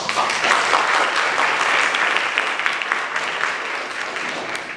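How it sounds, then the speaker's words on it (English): Loud, sustained applause from a crowd at a school honor society induction, a dense patter of many hands clapping that holds steady before tapering slightly at the end. "Give him a round of applause"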